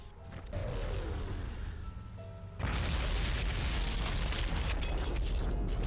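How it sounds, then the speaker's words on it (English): Heavy artillery shells burst in a desert battle in the Blitzkrieg strategy game, set in 1943 North Africa. A dense rumbling barrage swells into a louder, sustained roar of overlapping booms, with no voices. "Artillery!"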